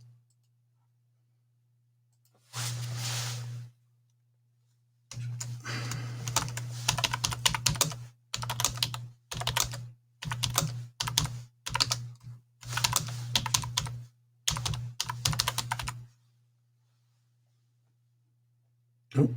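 Bursts of fast typing on a computer keyboard, clattering keystrokes in several runs separated by short pauses, close and fairly loud over a steady low electrical hum.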